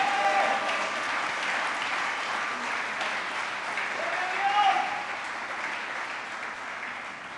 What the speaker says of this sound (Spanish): Puede darle un fuerte aplauso a nuestro Dios